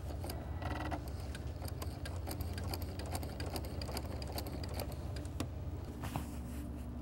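A sewing machine fitted with a denim needle stitching through denim for an apron pocket, a loud, steady mechanical whir with rapid needle clatter running continuously and close up.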